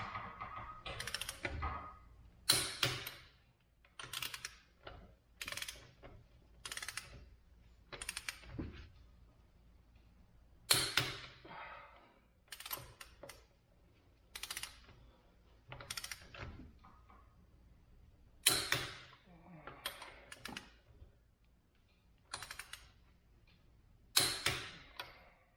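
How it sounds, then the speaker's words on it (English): A torque wrench set to 118 foot-pounds tightens the wheel lug bolts on a Porsche Macan, a long run of close ratcheting clicks coming in short bursts with pauses between bolts. "Now I'll get my torque wrench that I've already got set to 118 foot-pounds."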